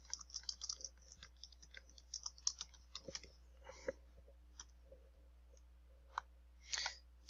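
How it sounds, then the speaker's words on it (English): Light, irregular clicks and taps of typing on a keyboard, faint and close, with short bursts and pauses between keystrokes. "and I can start typing."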